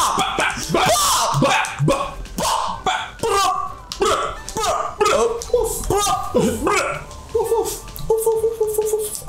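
A person imitates a dog with a run of loud barking and yipping noises, mixed with laughter and chuckling from others nearby. The barks come close together in quick, uneven bursts.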